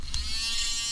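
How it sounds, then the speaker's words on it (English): Small Badger paint mixer running, a steady close electric buzz like a shaver motor, continuous through the short stretch with no voices. "This is the other mixer I have. This is the Badger mixer."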